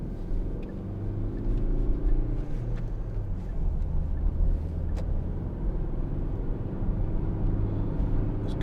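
A Hyundai i40 1.7 CRDi diesel car pulls away and drives on, a steady low engine rumble and road drone heard from inside the cabin, constant and fairly loud with faint clicks, no talking.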